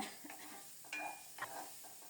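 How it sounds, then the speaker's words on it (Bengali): Yardlong beans fry in a pan while being stirred and turned, giving a soft steady sizzle with a few brief scraping stir sounds, close and fairly quiet, with no talk. "এবার নেড়ে চেড়ে ঢেকে ঢেকে খুব সুন্দর মতো বরবটিগুলো ভেজে নেব"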